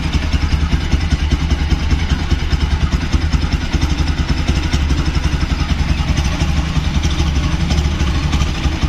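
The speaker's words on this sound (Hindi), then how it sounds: "It starts normally but the throttle response is bad." A Bajaj Pulsar NS200 with a badly tuned carburettor and poor throttle response runs close by, its engine chattering in a loud, fast, steady rhythm with a clattery mechanical edge and no talking over it.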